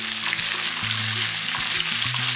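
Dried red chillies sizzling in hot oil while chutney ingredients are sautéed, giving a dense, continuous close-up frying hiss with occasional stirring movement and no voices.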